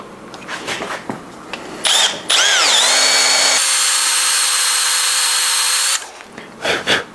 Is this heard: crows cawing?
no